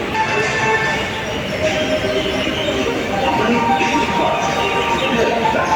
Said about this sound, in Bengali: চলে এলাম দমদম মেট্রো স্টেশনে